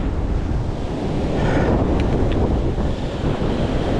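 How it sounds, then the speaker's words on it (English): Strong gusty wind roars and buffets the microphone without a break, its steady broadband rush swelling and easing in gusts of up to 60 mph, with no talking. "God, can you hear that wind?"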